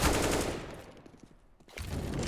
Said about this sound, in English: CX with a nice headshot towards Arch